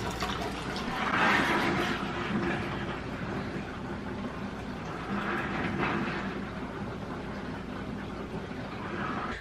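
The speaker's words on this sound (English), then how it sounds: "And now the washer is draining." Portable washing machine draining its water, a steady low rushing gurgle with slow swells of splashing flow, close and moderately quiet, continuous throughout.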